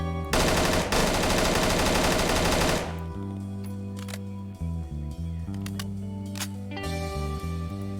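Rapid automatic fire from a Colt Commando rifle in ARMA 3 rattles loud and close for about three seconds, then stops, leaving game ambience with a few faint clicks and knocks.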